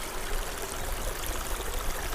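Freshwater spring water flowing steadily near a mountain campsite, a continuous close hiss and trickle with no voices.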